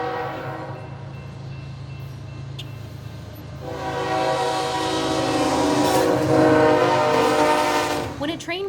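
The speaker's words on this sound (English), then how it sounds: "When a train reaches a railroad crossing, the train engineers use the horn to make sure the tracks are clear." A train sounds its horn at a railroad crossing, with a steady rumble of rolling cars first and then a loud, sustained blast joining in about halfway through and swelling toward the end.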